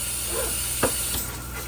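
Kitchen tap water runs over potatoes in a colander with a steady close hiss and splash, broken by a couple of brief knocks.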